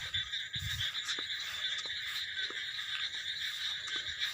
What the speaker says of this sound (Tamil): இது ஒரு பூச்சி கத்துது, குருட்டின்னு சொல்லுவாங்க. அந்த பூச்சி கத்திட்டு கிடக்கு.